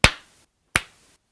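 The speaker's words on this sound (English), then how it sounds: "now you can hear me clap" Two sharp hand claps spaced about three-quarters of a second apart, each crisp and close with a short decay into silence, recorded during a live Taiji class stream with sound compression switched off.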